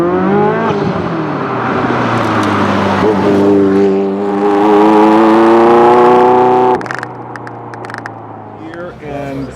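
A Ferrari F40 engine revs loudly, its pitch climbing and holding, then drops to a lower idle rumble as the engine settles.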